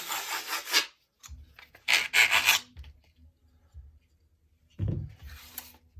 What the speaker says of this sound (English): So first we're going to take the buckle off.